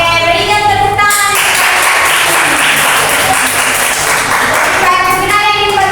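A classroom of students applauds at the end of a presentation in a maths lesson: a dense burst of clapping lasting about four seconds, with talk just before and after it.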